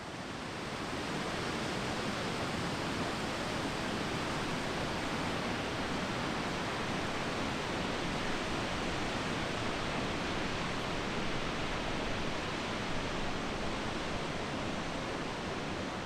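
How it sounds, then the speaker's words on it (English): Ocean waves wash in a steady, unbroken broadband hiss, soft and even throughout with no distinct breaks or voices. "All you heard were the sounds of the waves, which is relaxing"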